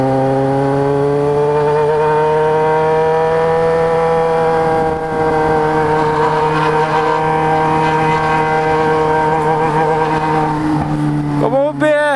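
A Yamaha XJ6 motorcycle fitted with a 4x1 exhaust and no dB killer idles and revs loudly up close, its deep steady engine tone climbing in pitch before a sharp rev near the end, with voices faint underneath.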